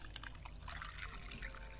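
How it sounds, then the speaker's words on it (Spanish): Water drawn from a well in the horror RPG Alice Mare, a soft continuous pouring and trickling splash with faint drips, quiet and steady throughout. "Un pozo de agua, sacar agua."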